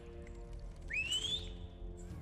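A person in the Spider-Man 2 movie gives one sharp rising whistle lasting under a second, heard over a low background hum.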